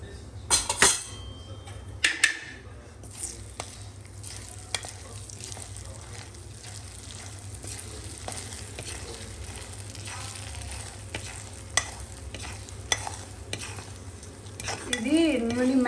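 Mustard seeds, chana dal and urad dal frying in oil for a tempering, with a continuous sizzle, occasional utensil clinks and scrapes against the pan, and a louder crackle near the end.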